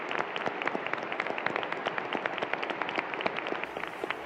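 Audience applause: dense, sustained clapping from a crowd, steady and fairly loud throughout with no talking.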